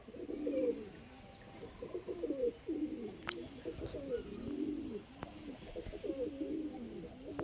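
Rampuri golden pigeons coo repeatedly inside a loft, soft rolling throaty calls overlapping in a steady rhythm, close by, with a couple of faint sharp clicks mixed in and no talk.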